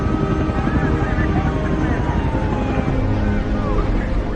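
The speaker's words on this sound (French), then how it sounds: "9 hélicoptères et 34 ambulances évacuent les rescapés." Loud, continuous rotor and engine roar of rescue helicopters close by at a plane crash site, a dense steady drone with whining tones drifting over it and no pauses.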